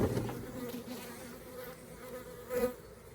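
Steady honey bee buzzing fills the clip, a dense droning hum close by with a brief louder swell near the end.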